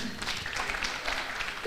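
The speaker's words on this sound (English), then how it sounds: "Dr. John Dongo, a round of applause for him." A crowd claps steadily at a valedictory programme honouring a retiring professor, a dense and even patter of many hands that carries through the whole short stretch.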